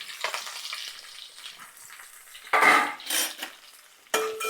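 Mustard seeds, crushed garlic, sliced onion and curry leaves hit hot oil in a pan, giving a close crackling sizzle with sharper spitting bursts and scraping stirs, alone without talk.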